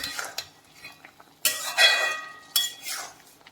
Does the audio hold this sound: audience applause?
no